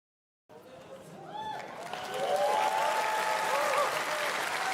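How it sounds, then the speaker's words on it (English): Crowd at TwitchCon Rotterdam 2025 clapping in a large hall, applause swelling and holding steady with cheers and chatter mixed in, people talking over it. "That was a forced clap."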